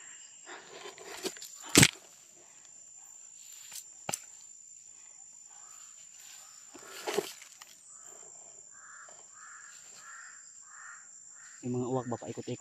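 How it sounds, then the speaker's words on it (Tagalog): Crows circling over a mountaintop give a few scattered, fairly distant caws against a quiet outdoor background with faint rustling and occasional footsteps. "Yung mga uwak ba paikot-ikot dito sa atin."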